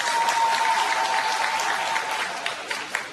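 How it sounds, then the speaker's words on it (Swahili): Sustained crowd applause at a municipal gathering in Ilala, a dense, steady clatter of many hands filling the whole stretch and easing slightly near the end. "Jamani, makofi tafadhali"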